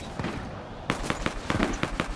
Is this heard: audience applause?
no